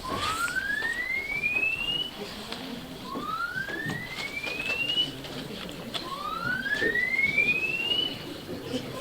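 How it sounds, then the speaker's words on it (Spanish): An alarm sounds at Frank Lloyd Wright's Robie House during a lecture, giving three rising, wailing siren-like sweeps spaced a few seconds apart over a noisy background. "Saltan las alarmas."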